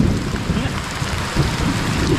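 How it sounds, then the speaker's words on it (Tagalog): Heavy rain pours steadily as a fisherman is caught out while net fishing, a dense, continuous roar with low rumbling throughout and no voices. "Lakas na ulan."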